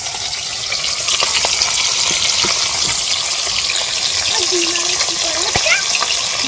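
Food frying in a pan at home, a dense continuous sizzle and crackle up close with occasional pops and stirring scrapes, steady and loud throughout, with faint background voices.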